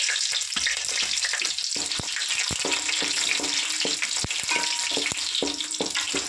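Whole biryani spices (cinnamon, cloves, mace, marathi moggu, star anise and shahi jeera) crackle in hot oil for chicken 65 pulao, a dense close sizzle peppered with sharp pops and clicks.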